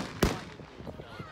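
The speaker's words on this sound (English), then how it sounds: "Regulation fireworks, eh, Tom?" A single sharp, loud bang of a firework going off at night, followed by faint crackling and scattered softer pops fading into the background.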